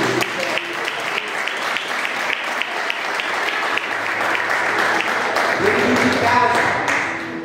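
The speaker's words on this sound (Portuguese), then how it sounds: "Vamos aplaudir ao Senhor." A church congregation breaks into sustained applause, dense steady clapping from many hands filling the room at full volume, with some crowd voices rising beneath it toward the end.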